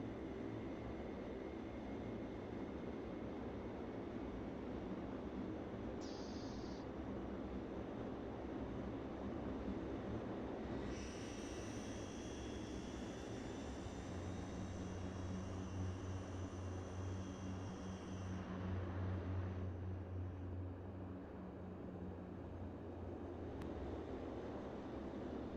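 The engines of an NAC Fokker F27 airliner drone steadily and loudly while the plane parks at a terminal in light rain, with a higher whine rising for a stretch midway before settling back.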